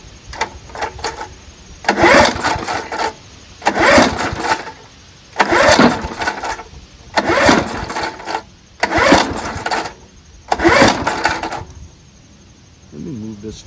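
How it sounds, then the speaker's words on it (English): A vintage 1974 Ransomes Sensation Bob-Cat M21 push lawnmower with a Wisconsin Marine 4 HP engine is pull-started about six times. Each rough pull brings a short sputtering whir, and the engine never catches and runs. "let's give her a couple pulls and see if it at least somewhat turns over."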